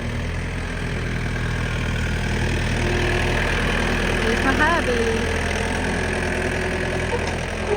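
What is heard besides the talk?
tractor engine idling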